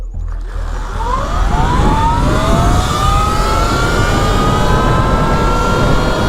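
Two electric dirt bikes, a Surron X and an E-Ride Pro 3.0, race side by side. A rising electric motor whine climbs steadily in pitch over a rushing wind roar, loud and continuous from start to finish.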